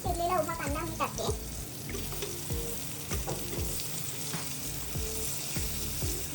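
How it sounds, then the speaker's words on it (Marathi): Thinly sliced onion dropped into melted butter in a pan, giving a busy frying sizzle with repeated scraping stir strokes, close and fairly loud. "आता हे बटर मेल्ट झाल्यानंतर याच्यामध्ये मी थोडासा अर्धा चिरलेला उभा कांदा मी टाकते."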